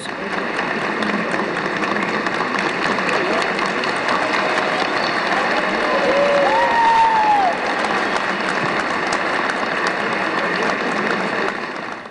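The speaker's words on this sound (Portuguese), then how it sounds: "foi recebida pelos parlamentares com muitos aplausos" Members of parliament applaud President Dilma Rousseff in a large legislative chamber, sustained dense clapping from many hands lasting throughout with a faint voice rising briefly in the middle.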